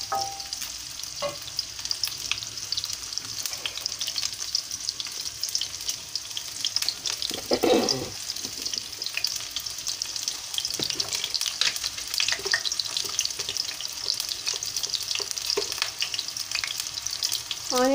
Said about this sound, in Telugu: ఆనియన్స్ కాస్త వేగాలండి